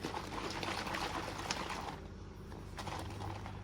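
A plastic bottle holding baking soda and water is shaken, giving a fast, rough sloshing and rattling that runs continuously at a moderate level, easing briefly in the middle.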